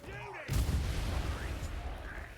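A heavy explosion in Vermintide 2 booms out and then rumbles on as a long, loud, low roar. A brief tonal game sound comes just before the blast.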